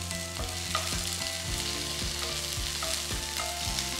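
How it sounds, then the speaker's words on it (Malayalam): Halved red shallots and curry leaves fry in hot oil for mutton chukka, giving a loud, steady sizzle close by with regular stirring scrapes. "എണ്ണ നന്നായിട്ട് ചൂടായി. ഇതിനകത്തേക്ക് ചുവന്നുള്ളി."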